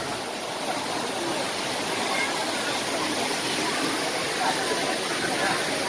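Rushing water at a national ecological park, a dense, steady roar of splashing flow that holds even throughout, heard up close.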